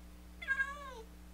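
A single clear meow from a pet cat in a video game, close and alone over a low steady hum.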